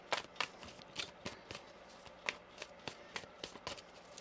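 Tarot cards being shuffled by hand, giving a steady run of crisp riffling snaps and soft flicks, about a dozen close, quiet bursts with no talking.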